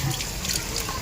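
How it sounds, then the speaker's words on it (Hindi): Water gushes from a tap in a steady, close, full-bodied rush that splashes continuously throughout. "नल पानी दे रहा है"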